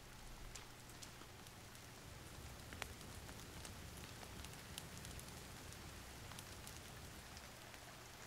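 Rain falls in The Forest video game, a soft continuous patter with scattered sharper drops tapping nearby surfaces, faint and steady throughout with no voices.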